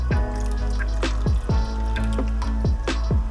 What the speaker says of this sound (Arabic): بدنا نحط الخل الابيض